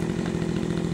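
A petrol chainsaw with its choke engaged runs after a pull of the starter cord, its engine buzzing loud and steady at close range without a break.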